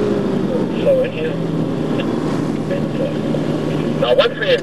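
A Mercedes-AMG car engine running as it is driven around a circuit at a driving academy, a steady loud drone with wind buffeting and brief surges near the end.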